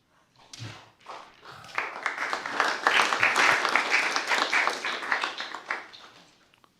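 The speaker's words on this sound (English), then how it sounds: "to get a standing applause" A city council meeting audience rises into a swelling standing ovation, dense clapping building over a few seconds, holding strong, then thinning out, with faint voices mixed in.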